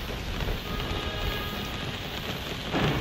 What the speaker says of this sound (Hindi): देखिए बाहर बारिश हो रही है